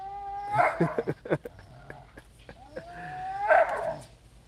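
Dogs bark and whine in short, uneven calls outdoors on a property, fairly close, with a few sharp yelps between longer whimpering tones and no talking over them.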